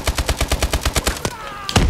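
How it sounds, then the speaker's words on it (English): Rapid automatic gunfire from the Call of Duty video game, a steady burst of about a dozen evenly spaced loud shots, a brief pause, then a couple more cracks near the end. "people are shooting at me"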